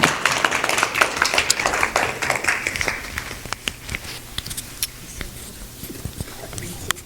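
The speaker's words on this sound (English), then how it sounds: "Clap for her while I put these things back on awkwardly." Church congregation at a town hall meeting clapping for their treasurer, dense applause that starts full and gradually thins to scattered claps, fairly close and lively.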